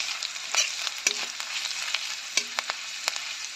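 Steady oily sizzle of ginger and vegetables frying in a pan, with occasional clicks and scrapes of stirring; no voices.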